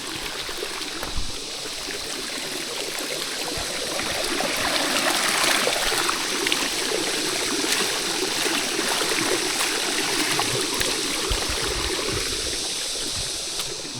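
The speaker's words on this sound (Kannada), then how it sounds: "ಇಷ್ಟು ನೀರು ಬರ್ತಾಯಿದೆ." A forest stream near the Yellapur waterfalls runs steadily, its broad rushing and trickling water holding an even, fairly loud level throughout with no voices.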